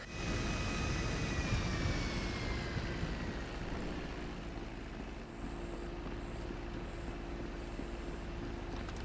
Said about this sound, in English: someone still crashes their plane into me.